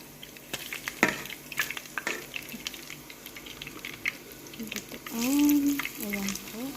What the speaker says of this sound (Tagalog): fried po natin yung chicken natin sa ating